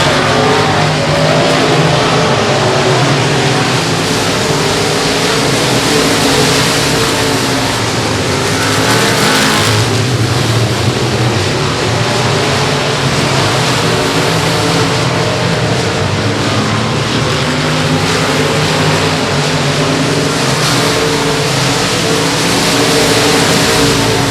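Race cars run down the back straightaway at Boothill Speedway amid lapped traffic, a loud continuous engine roar from several cars close by, rising and falling as they pass, with no talk over it.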